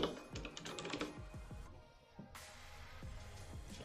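Fingers type on a computer keyboard in a quiet room, a close run of quick irregular key clicks and taps with a brief pause partway through.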